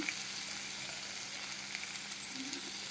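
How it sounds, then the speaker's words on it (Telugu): Borbati beans fry in oil in a pan, with a continuous soft sizzle and crackle and occasional faint pops, quiet and steady with no speech. "బాగా ఫ్రై అయిపోయినాయండి ఇది ఆయిల్ సెపరేట్ అవుతుంది"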